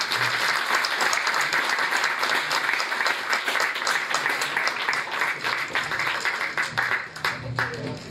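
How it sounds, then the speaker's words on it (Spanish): Sustained loud applause from an audience at a talk on the labor movement and culture, steady clapping throughout with a slight swell and some crowd noise mixed in. "Fuerte aplauso."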